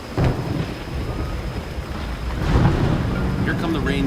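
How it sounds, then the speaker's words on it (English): Low, rolling rumble of thunder from incoming rain clouds over a sandbar, loud and broad, swelling again in the second half with rain-like hiss over it. "Here come the rain clouds."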